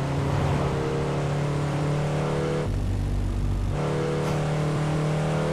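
A first-generation Honda NSX engine in the racing game Driving School Classic drones with a steady, humming tone, dipping briefly as the throttle lifts before resuming at a constant pitch.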